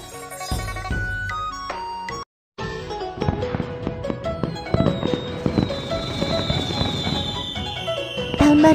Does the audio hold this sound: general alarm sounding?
no